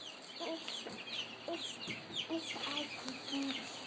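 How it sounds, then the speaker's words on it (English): Chickens cluck in short repeated calls, fairly close, with an occasional higher squawk and some faint background noise. "They're the chickens?"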